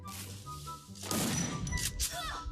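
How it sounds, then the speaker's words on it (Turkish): Shotgun shots ring out in the Free Fire video game in a 1 vs 1 lone wolf mode: a quiet stretch, then a loud burst of gunfire blasts with crackling echoes and sharp metallic clicks. "Bu arada başka bir pompalıyla kafa atmayı deneyelim"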